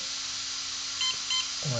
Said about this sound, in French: ce que vous entendez, c'est les différents bips du menu proposé